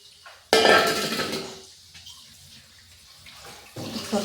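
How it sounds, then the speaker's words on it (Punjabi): Water pours out of a pot in a sudden splashing gush, then trickles and drips, with a clank of metal and another brief pour at the end. "ਇਹ ਪਾਸਾ ਪਾਣੀ ਕੱਢ ਦਿੰਦੇ ਹਾਂ"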